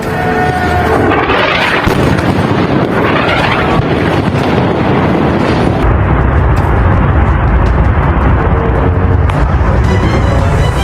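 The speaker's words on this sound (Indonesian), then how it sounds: "Ledakan juga terjadi di sejumlah titik di Isfahan" Loud, roaring rumble of explosions in Isfahan, Iran, during a military operation, blending into a constant wash of noise, with deep booms and a heavy, windy texture throughout.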